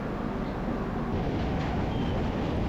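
Steady rumble and rattle of a train pulling out of Kolkata station, heard continuously from inside at moderate loudness, with no voices.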